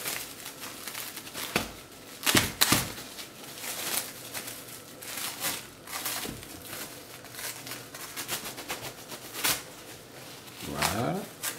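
Gingerbread being unwrapped from plastic cling film, with close, irregular crinkles and crackles and a few sharp rustling bursts; a voice speaks softly in between.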